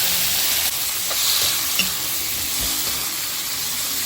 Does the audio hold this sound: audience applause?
no